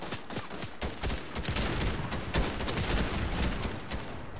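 Rapid gunfire from a Fortnite squad match crackles in dense, overlapping shots at moderate volume, a fast irregular volley with no voices over it.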